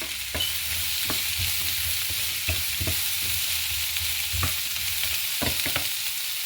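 Chopped carrots hit a hot pan and fry with a steady broadband sizzle, punctuated by scattered clinks and scrapes of a spoon stirring, close and fairly loud, for a Spanish-style dish with beans and chicken.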